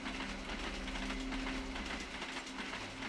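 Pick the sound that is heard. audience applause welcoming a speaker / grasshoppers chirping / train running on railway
train running on railway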